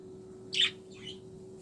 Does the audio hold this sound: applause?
no